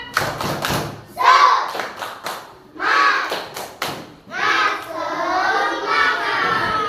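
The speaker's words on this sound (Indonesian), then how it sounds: "tepuk semangat" Schoolchildren in a classroom perform a rhythmic spirit clap, with sharp clustered clap bursts alternating with their chanting voices, followed by a longer stretch of children's voices together.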